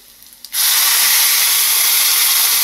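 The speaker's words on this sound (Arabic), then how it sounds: "احط على طول دلوقتي الخل" Vinegar hits a hot pan of fried garlic for Egyptian fatta, bursting into a loud, steady hiss and sizzle that starts abruptly after a brief quiet moment and holds strong to the end.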